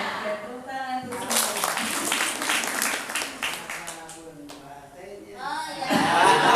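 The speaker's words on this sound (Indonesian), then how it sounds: "Tepuk tangan tuh." An audience at an Al-Muhajirin foundation gathering breaks into a few seconds of clapping and light laughter, mixed with talk from a speaker.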